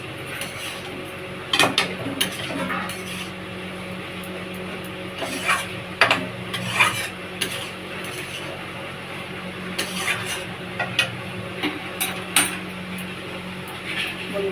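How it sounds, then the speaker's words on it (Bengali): Fried lentil dumplings are stirred into a pot of boiled potato and vegetable stems, with repeated clinks and scrapes of a utensil against the pot coming in irregular bursts close by, and little speech. "সিদ্ধ হয়ে যাওয়ার পরে আপনারা বড়াগুলো ছেড়ে দিয়ে এভাবে নেড়ে নেবেন।"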